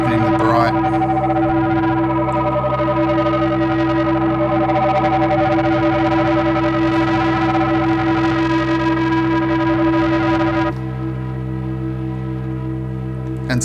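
Dense feedback drone from a Eurorack modular system with reverb, a loud, continuous stack of distorted harmonic tones that holds steady, then drops to a thinner, quieter ringing tail near the end.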